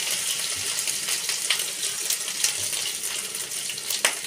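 Chopped onion hits hot oil in a pan for Bengali fish curry, giving a continuous bright sizzle and crackle with occasional sharper pops, fairly close and without talk.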